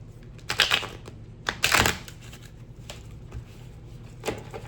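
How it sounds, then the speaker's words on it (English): Tarot cards riffle and slap together in a few quick bursts, with soft tapping and handling noises in between, close and fairly quiet. "I'll just shuffle the cards."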